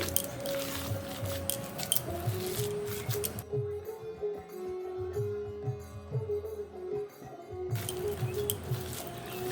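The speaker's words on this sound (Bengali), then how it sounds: "সামান্য পরিমাণ জল ভালোভাবে মেখে নিচ্ছি আমি হাত দিয়েই মেখে নিচ্ছি" Chhena mixture with ghee and a little water being kneaded by hand, soft wet squishing and pressing sounds, quiet and close, in an irregular rhythm.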